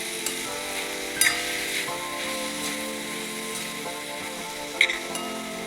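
Hatga flower vegetable sizzles steadily in a pan over a low gas flame as it is stirred, with a couple of sharp utensil clinks against the pan.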